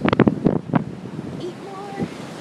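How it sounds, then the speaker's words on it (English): Gusty wind buffets the microphone on a windy beach with surf in the background, a low rumbling roar under a person's voice. "It feels like the wind's gonna like blow me over."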